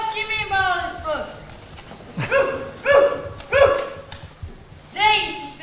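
Nana, a dog in a Peter Pan school play, barks in a series of loud, close yelps with whimpering, whiny tones between them.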